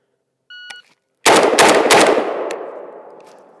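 A Galil Ace rifle fires three 7.62x39 rounds in quick succession, loud and close, and a long ringing tail follows. A brief electronic beep comes first, after near silence.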